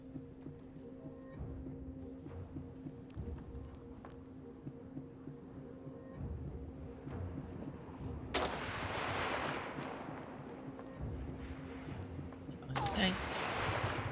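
Tank attack and gunfire in the war survival game This War of Mine: a steady low rumble with scattered shots, then two loud, close bursts of explosive gunfire crashing in late, with someone talking urgently underneath.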